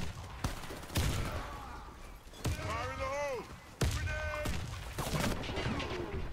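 AK rifle shots in the game Warface come as sharp, loud cracks spaced a second or so apart, with someone talking between and over them.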